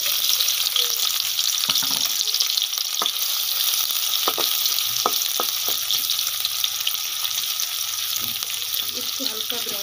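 Onions frying in hot ghee for aloo ki handi produce a constant loud sizzle, punctuated by scattered clicks and scrapes from stirring, with faint watery sounds in the background.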